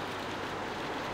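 Steady rain falls outside a barn in The Walking Dead video game, a soft continuous patter that carries on evenly throughout and sits at moderate distance with no voices.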